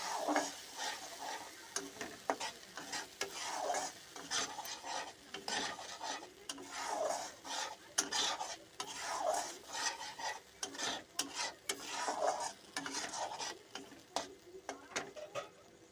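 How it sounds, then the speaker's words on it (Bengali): Fish curry masala stirred in a pan, rhythmic scraping and rubbing strokes repeating about every second or so over a faint sizzle, quiet and close. "এবার মশলাটা একটু নাড়াচাড়া করে নেব।"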